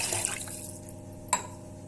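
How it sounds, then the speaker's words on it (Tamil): Water is poured into a pot while making temple-style ven pongal, a brief close splashing trickle ending in a small clink. "அதுக்கு 6 டம்ளர் தண்ணி ஊற்றிக்கலாம்."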